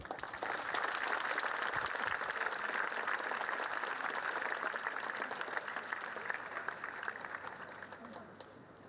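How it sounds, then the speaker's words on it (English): Lecture hall audience applauding to welcome a speaker, a dense sustained clapping that stays loud for several seconds and then tapers off slightly. "Please join me for a big applause to welcome Rinpoche."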